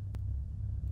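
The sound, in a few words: loud car engine in a video game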